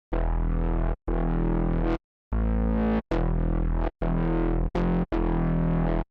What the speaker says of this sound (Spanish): este bajo suena así.